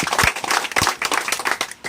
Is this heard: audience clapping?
yes